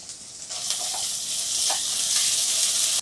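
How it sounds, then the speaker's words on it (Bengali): Chopped onion frying in a pan with garlic paste and ginger paste for a mushroom masala, a steady close sizzle with a few faint stirring clicks, running alone without talk. "পেঁয়াজটা একটু ভেজে নিচ্ছি।"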